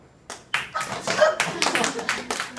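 An audience claps in short bursts to vote for an entry at a coastal costume contest, the applause close, uneven and fairly loud for a couple of seconds.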